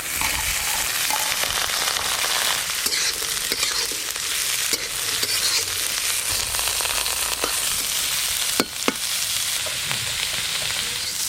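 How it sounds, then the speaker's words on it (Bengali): Carrots and beans fry in ghee over a clay stove, giving a continuous loud sizzle with scattered sharp crackles and occasional stirring scrapes. No voices are heard. "আমি তো এই সবজিগুলো ঘি দিয়ে ভাজছি"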